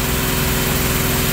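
A ProQuip 6.5 HP small engine, being fitted to a Motoyama power sprayer, runs steadily at a constant idle-like drone, loud and close, with no voices over it.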